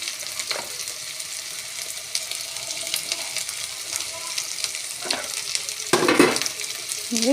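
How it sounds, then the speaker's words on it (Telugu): Thinly sliced long onions fry in a little oil for a masala egg curry, with a steady, close sizzle and a few stirring scrapes of a utensil against the pan. "ఇప్పుడు ఒక్క పావు నూనె వేసుకొని సన్నగా పొడుగా కట్ చేసుకున్న ఉల్లిపాయలు కొంచెం నూనెలో వేపుకోవాలి."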